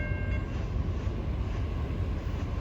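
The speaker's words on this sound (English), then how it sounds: "approaching west at 241 should be train Q157. Stack train from Greenwich Yard, Philadelphia to Buffalo, Frontier Yard" A CSX double-stack freight train running from Philadelphia to Buffalo rolls past with a steady, loud rumble, broad low-end roar and rail noise that continue without a break.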